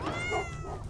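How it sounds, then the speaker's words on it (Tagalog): A cat gives a single short, fairly faint meow during a fight between a dog and a cat. "May nag-away na aso't pusa"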